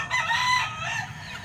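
A Kelso stag rooster crows once, close and clear, a short drawn-out call with a low farmyard background.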